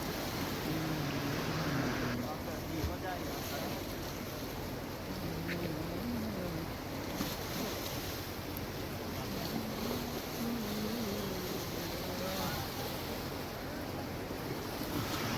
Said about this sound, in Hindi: तो आपने नदी की आवाज़ सुन ली